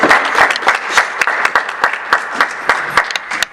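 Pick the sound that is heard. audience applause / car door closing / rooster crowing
audience applause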